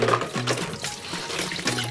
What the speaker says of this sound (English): Pour out as much of this fluid as we can before we dump it.